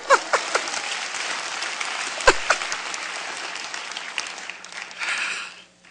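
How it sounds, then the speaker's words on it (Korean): Church audience applauding during a sermon, a dense burst of clapping with a few sharp claps up front, holding steady and then tapering off toward the end. "박수 한번 해야 돼."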